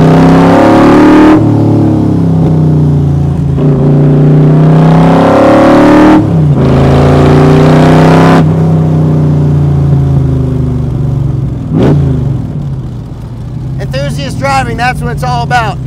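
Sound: Backdraft Racing Roadster with Roush 427 engine accelerating

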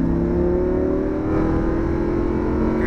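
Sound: Lamborghini accelerating on a racetrack

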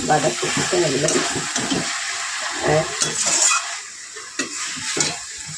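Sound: stirring cabbage curry with rohu fish head in a pan

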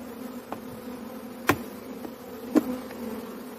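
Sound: honeybees buzzing at the hive

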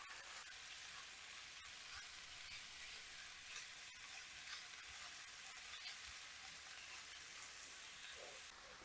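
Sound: spinach frying in a pan with sausage and mushrooms

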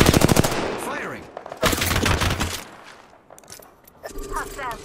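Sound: gunfire in the video game Apex Legends

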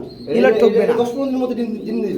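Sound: pigeons cooing

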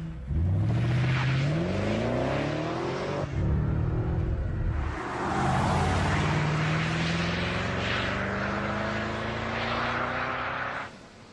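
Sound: BMW 6 Series engine revving

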